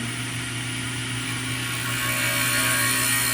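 A carbide scraper works curly acacia sapwood, giving a steady, rough, continuous scraping hiss over a constant low machine hum that swells slightly toward the end.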